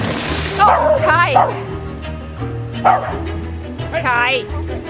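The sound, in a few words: dog barking on a sailboat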